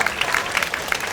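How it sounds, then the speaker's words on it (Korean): Applause from guests at a wedding ceremony in a wedding hall, a brief steady burst of clapping from a crowd filling the room. "신부의 이번 시절 친구들 위해서 다시 한번 큰 박수 부탁드립니다."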